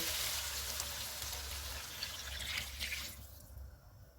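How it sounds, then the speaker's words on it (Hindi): One litre of water pours steadily into a pot of roasted spices with a broad splashing hiss, then stops abruptly near the end, leaving quiet. "अब इसमें 1 लीटर पानी डालेंगे।"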